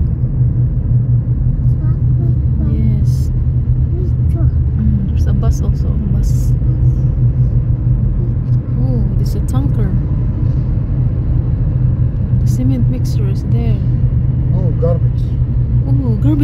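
Cars, trucks and a big truck passing along a road near Abu Dhabi, heard as a continuous loud engine rumble and road roar from inside a moving vehicle, with a voice and an adult talking over it.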